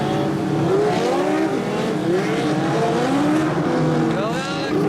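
Several Legends race cars, fast hot rods at Evans Mills, roar around the track together with shifting engine pitches and passing sweeps, loud and continuous, with a commentator's voice over the din.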